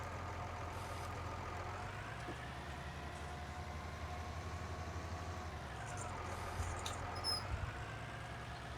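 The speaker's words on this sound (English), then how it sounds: "all the tractors that I own have squeaky steering wheels" A brief high squeak from a tractor's steering wheel in Farming Simulator 19 cuts over a steady, droning engine rumble that runs throughout.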